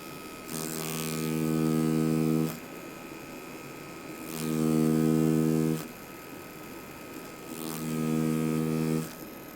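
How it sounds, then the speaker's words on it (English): A tattoo machine lining with an overworked needle buzzes steadily in three bursts, with a strained, labored hum behind a constant electrical drone. "you can kind of hear how the machine is fighting back against the needle tip"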